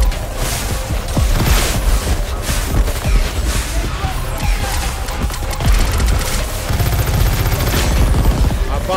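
Rapid bursts of automatic gunfire and shots in the Crackdown 3 video game, dense and loud, with crashes and impacts mixed in and brief voice lines under the firing.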